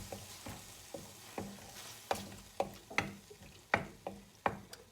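A spoon stirs sweet and sour chicken sauce of tomato ketchup and malt vinegar in a pan, making a soft sizzle under a series of regular scraping taps, about two per second, close and fairly quiet.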